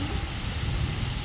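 Steady rain falling outdoors during the rainy season, a dense continuous hiss and patter heard close and fairly loud, alone without any voices.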